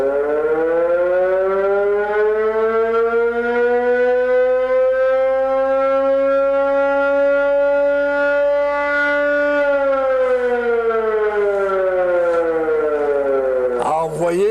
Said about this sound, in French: quand on pesait sa sirène